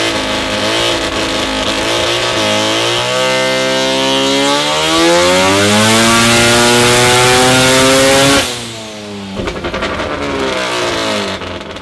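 A Mazda 13B turbo rotary engine on a dyno screams up through its revs in a long, loud, rising pull, then abruptly drops off and settles into a rougher lower idle, close and very loud with no talking.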